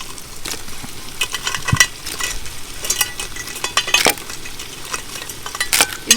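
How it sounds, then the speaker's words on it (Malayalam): Crab tossed into masala in a pan for a Kerala-style crab roast, with a spoon scraping and clinking against the pan in uneven strokes over a low, steady sizzle. "ഞണ്ട് നമ്മൾ ഈ മസാലയിലോട്ട് ഇട്ട് കൊടുക്കാം"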